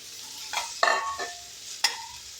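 Okra is stirred and sautéed in a pan, giving a few separate scraping and sizzling strokes against a quiet background.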